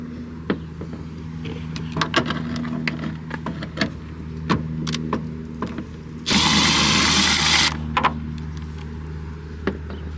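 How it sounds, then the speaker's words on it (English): A power tool whirs in one sustained burst for about a second, backing out a screw on a 2011–2020 Toyota Sienna minivan brake light, with light clicks and handling noises before it. "So you got to unscrew these two screws."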